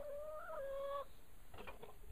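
A single drawn-out chicken call, then a few soft, quick clucks in a quiet setting.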